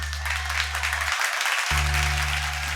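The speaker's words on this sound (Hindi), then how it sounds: "जोरदार तालियां सूर्य कमल के लिए दोस्तों" Studio audience applause for a contestant on a televised dance competition show, a dense steady clatter of clapping over loud background music that briefly drops out midway.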